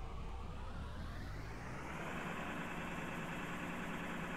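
Simulated 1999 AmTran International bus engine idling in the Rigs of Rods game, a steady low rumble with a continuous hum that holds constant and close throughout, with no talk.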